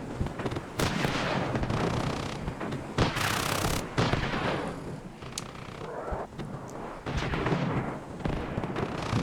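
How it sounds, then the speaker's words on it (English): Tank cannon fire in the Armored Brigade II wargame, a rapid string of heavy booming shots, well over ten, cracking one after another amid rumbling battle noise, loud and dense. "Count the shots if you can. It's like over 10 shots."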